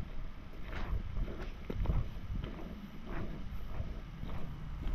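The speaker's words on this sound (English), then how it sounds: "I didn't realise it was so windy" Steady wind rumbles and gusts against the microphone on forestry roads, moderately loud and continuous, with no voices.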